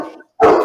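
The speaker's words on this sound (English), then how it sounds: "Now, why isn't Toby barking" A dog lets out two loud, close barks separated by a brief silence, the second sharper and fuller.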